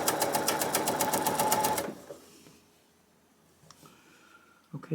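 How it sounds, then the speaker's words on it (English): Sewing machine stitching quilt patches at a quarter-inch seam, a rapid rhythmic clatter for about two seconds that then stops, leaving quiet handling noises and faint clicks. "Put it in the sewing machine and 1/4 of an inch."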